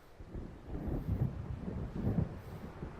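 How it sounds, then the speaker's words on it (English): A storm moving in during the video game Alan Wake, with a low, rolling rumble like distant thunder swelling in two broad surges over steady wind-like noise. "It seems there's a storm coming."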